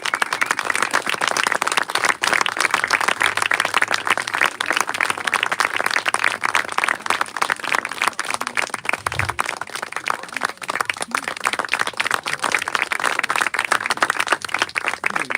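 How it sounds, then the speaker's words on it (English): Audience applause greets a harpist at an outdoor amphitheater concert, a steady, dense wash of clapping that holds for the whole stretch at an even level, with no voices above it. "give a warm applause to Danielle"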